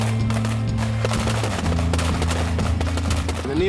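Soldiers on skis in snow firing rifles during winter warfare training, a dense run of close, sharp gunshots and clatter over a low steady rumble.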